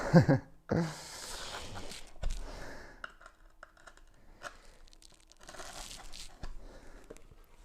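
Griptape on a skateboard deck is being cut and pierced, giving close, crunchy tearing and scraping bursts that come in short, irregular strokes separated by quiet pauses.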